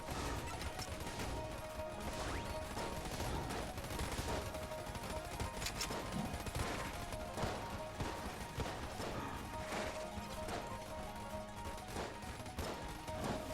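Rapid gunfire from the roguelike shooter Enter the Gungeon, dense bursts of shots crackling continuously over layered game music and effects, loud and busy throughout with no pauses.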